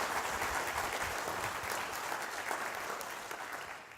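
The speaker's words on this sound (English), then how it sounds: "So another round of applause for him and his team." An event audience claps in a sustained round of applause for a researcher and his team, a dense, even wash of hands that eases slightly toward the close.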